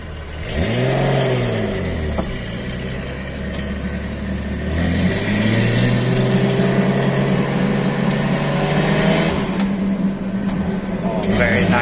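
A 1973 Datsun 240Z Series 2 pulls away in first gear, its engine note rising in a steady rev climb, easing, then building again, loud and close from inside the car.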